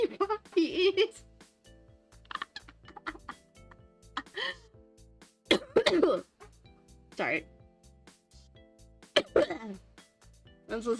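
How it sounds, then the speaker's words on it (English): Several short coughs and throat-clearing bursts scattered among bits of speech, close to the mic, with quiet pauses in between. "My cough probably sounds very gross."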